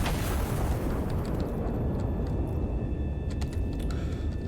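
An artillery gun fires and its shell explodes in Iron Nest, heard as a loud, deep boom that rolls off into a long, fading rumble with no talking.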